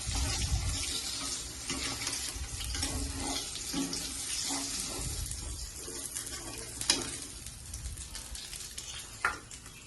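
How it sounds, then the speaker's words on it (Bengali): Rohu fish frying in a pan of oil as the browned pieces are lifted out, a continuous hiss and bubbling sizzle with scraping and clattering of utensils and a couple of sharper knocks, no voices. "সুন্দর করে মাছটা আমি ভেজে নেব"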